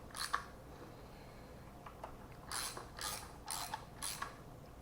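A ratchet tightens bolts on the top end of a big block Mopar engine, giving several quick bursts of rapid clicking, close and fairly quiet over a soft background hum.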